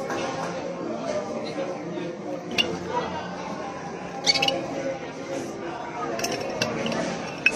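A bar spoon stirs an Old Fashioned of bourbon with Angostura and orange bitters, giving a steady soft swirl with light clinks of ice against glass and a few sharper taps.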